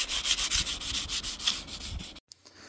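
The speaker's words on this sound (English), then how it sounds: "I'll just give it a quick top sand." A wooden piece gets a quick hand sanding before laser engraving, with rapid rhythmic scratchy strokes close up for about two seconds before stopping abruptly.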